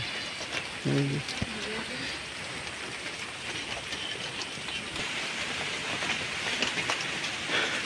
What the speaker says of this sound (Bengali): নেমে গেছে তো বৃষ্টি।